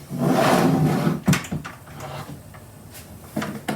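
A drawer on a craft storage cart slides open or shut with a close, loud rumble and a sharp clunk, followed by a few softer knocks and rattles.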